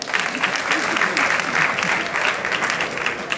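Women at an International Women's Day gathering clap for themselves, loud close-up clapping with a pulsing rhythm, with a few murmuring voices beneath it.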